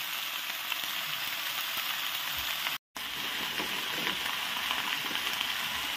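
Steady, close sizzle of chicken curry frying in a pan as three tomatoes go in, a dense continuous crackle with a brief gap near the middle and no talk over it.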